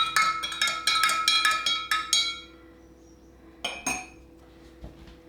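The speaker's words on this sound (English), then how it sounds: "I have a sterilised spoon, I just stir." A sterilised spoon stirring milk with cultures for homemade cheese gives a quick series of bright clinks against the container, then pauses and adds a few more taps near the end.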